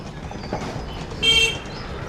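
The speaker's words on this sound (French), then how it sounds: "J'en peux plus des klaxons." Car horns honking in city street traffic, one brief louder toot standing out over a steady background hum.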